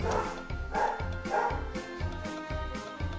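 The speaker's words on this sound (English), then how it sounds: "Those are my dogs." Dogs bark nearby in a rapid, fairly regular run of about half a dozen loud woofs, each following the last with barely a gap.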